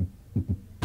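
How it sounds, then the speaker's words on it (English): A heartbeat sound effect in a televised cooking competition: two soft, low, quick thumps followed by a louder third beat, alone with no talk. "You literally hear your heartbeat."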